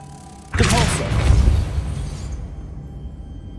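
A Depulso force spell in Hogwarts Legacy bursts out with a sudden whooshing blast and rumbling boom, then fades into a decaying magical shimmer over a couple of seconds.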